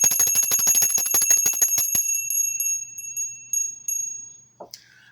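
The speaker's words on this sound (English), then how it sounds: "I'm going to clear the energy with my bell" A small hand bell rung repeatedly to clear energy, a fast run of bright close rings that stops abruptly, followed by a few sparse single strikes that ring out and fade, with faint handling noise at the end.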